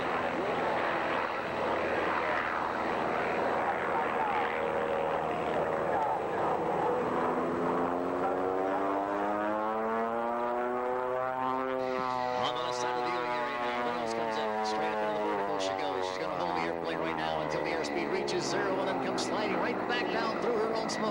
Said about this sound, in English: 180 horsepower Lycoming engine, pulling her up over the top of that 8